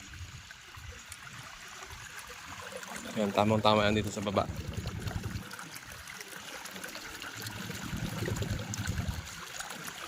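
Irrigation water drains in a steady, soft trickle from an 80-day-old red dragon onion field after its last watering, running beneath someone talking close by.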